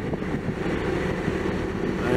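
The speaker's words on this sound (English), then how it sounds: "Here we are on the ferry boat." A ferry boat's low rumbling engine drones steadily with rushing water and wind buffeting the microphone, continuous and fairly loud throughout.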